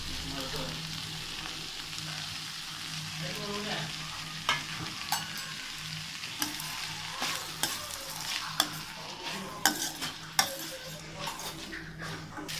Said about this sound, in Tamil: இப்போ நம்ம கட் பண்ணி வச்சுருக்க தேங்காவையும் உள்ளே போட்டு நல்லா வதக்கிக்குங்க